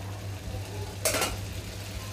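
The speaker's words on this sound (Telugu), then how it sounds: "బాగా ఫ్రై చేసుకోవాలండి." Potato pieces frying in hot oil in a pan give a brief burst of sizzling over a steady low hum.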